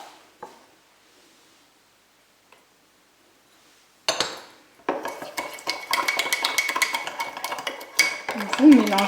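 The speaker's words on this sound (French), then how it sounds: "Vous mélangez bien." A spoon stirring egg yolk into cookie batter in a mug, after a quiet opening with a couple of light taps. The rapid clinking scrapes against the cup wall start partway through and grow busier toward the end.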